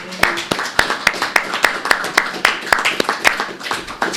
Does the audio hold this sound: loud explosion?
no